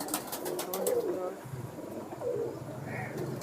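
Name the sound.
pigeons cooing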